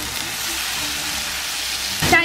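Browned onions and potatoes frying with light soy sauce in a gray pan, stirred with a silicone spatula for seaweed fried rice, making a steady, loud, close sizzle that ends in a brief louder scrape.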